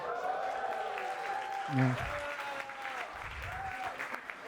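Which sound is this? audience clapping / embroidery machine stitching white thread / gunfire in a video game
audience clapping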